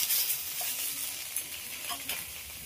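Sushni greens fry in a pan with a bright, close sizzle, broken by brief scraping sounds as they are stirred. Nobody talks.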